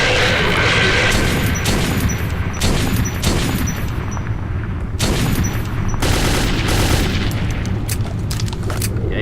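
Sustained AK rifle fire in the shooter Metro 2033, with loud bursts and heavy booming impacts that carry on almost without pause over a dense, noisy battle.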